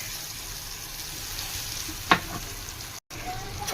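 Ground urad dal (minapappu) chutney cooks in a pan with a steady, close sizzle and one brief sharp click partway through.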